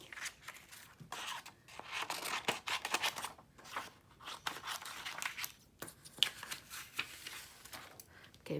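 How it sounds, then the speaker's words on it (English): Scissors snip through card by hand in a quiet, irregular series of small cuts and rustles, close but faint, with paper shifting between strokes. "So now I'm going to cut this out"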